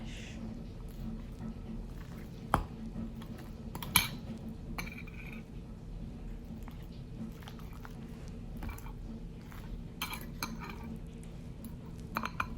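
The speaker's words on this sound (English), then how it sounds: "Kept on mashing until I felt like it was good enough" A fork mashes and scrapes against a bowl while baking, giving quiet, intermittent clinks and soft taps, with two sharper knocks early on, over a low steady background hum.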